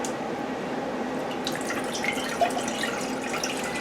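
Water trickles and drips steadily into a pot while pickling brine is being mixed, a continuous close splashing stream with small drops and no talking.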